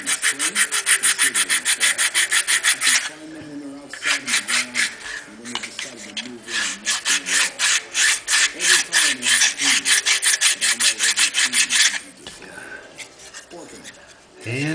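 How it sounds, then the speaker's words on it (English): Glued wooden ribs of a model airplane are sanded flat, a close, loud rhythmic rasping of strokes back and forth that pauses briefly and resumes, with a voice speaking at moments. "I'm just going to do the final sand on top of them to flatten them out of the body."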